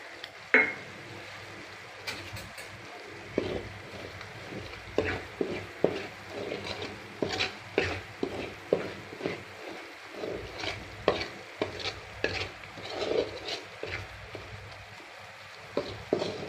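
Onion and green chili paste fries quietly in a pan while a spoon scrapes and taps it in a steady run of short stirring strokes over a soft, low sizzle, with no talking.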